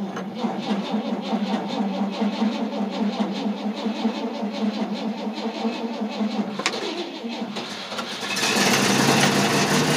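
A small engine is choked and primed, then started: a steady cranking churn for several seconds, a brief catch, and then it fires up into a loud, even running roar close by.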